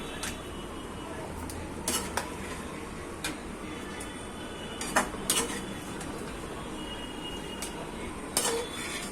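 Crispy potato manchurian is moved from the pan onto a plate, with scattered metallic clinks and taps of utensil on cookware over a low steady background hiss.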